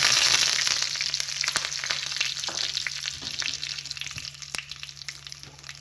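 Tempering of urad dal, curry leaves and a pinch of hing sizzles in hot oil for a chutney, a dense crackling fry with sharp pops and stirring scrapes that slowly settles.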